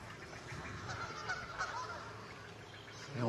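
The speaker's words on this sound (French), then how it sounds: "C'est des bernaches du Canada qui trompettent." Canada geese honk from a distance at a bird nature reserve, their calls scattered and faint over a constant outdoor background hiss.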